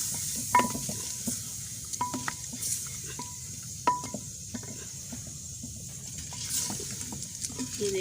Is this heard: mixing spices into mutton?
yes